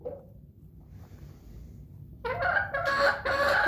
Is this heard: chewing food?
no